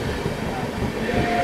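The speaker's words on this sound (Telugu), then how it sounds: "తాంబరం నుండి హైదరాబాద్ వెళ్ళే చార్మినార్ ఎక్స్ప్రెస్" The Charminar Express, running from Tambaram to Hyderabad, rumbles past as a loud, continuous rolling roar of wheels on track with no distinct horn, filling the short moment.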